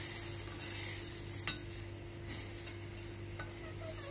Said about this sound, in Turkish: Domatesleri ilave ediyorum ve domateslerle birlikte de şöyle 2-3 dakika kadar